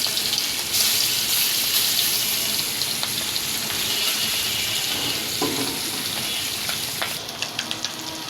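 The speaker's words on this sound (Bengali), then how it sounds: "বন্ধুরা দেখো পুঁটি মাছ, কড়া কড়া পুঁটি মাছ ভাজতে আছি মসমসকা।" Puti fish frying crisp in a pan, a steady loud sizzle with a watery hiss that continues throughout and ends with a few faint clicks.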